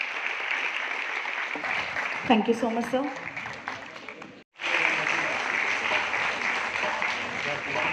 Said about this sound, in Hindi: बिल्कुल जोरदार तालियां